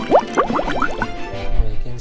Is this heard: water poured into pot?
yes